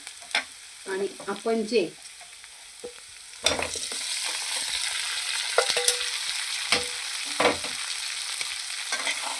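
Green chillies slit down the middle sizzle and fry in a pan for butter garlic chicken, with scraping stirs and clinks over a steady hiss that grows louder partway through; a voice speaks briefly at the start.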